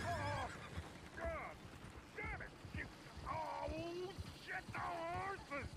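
A horse in the video game Red Dead Redemption 2 whinnies several times in shrill, wavering bursts over clip-clopping hooves and game noise, with a voice speaking faintly underneath.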